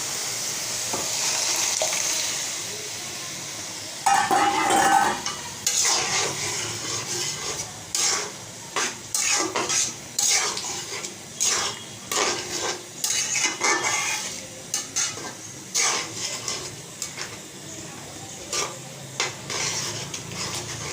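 Gime shak greens with turmeric being stirred in a pan, with repeated close scraping and clinking of a spatula against the metal in an uneven rhythm and no talk.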